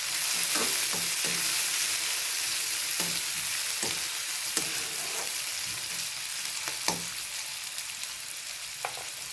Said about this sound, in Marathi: कांदा चांगला परतून घ्यायचा आपल्याला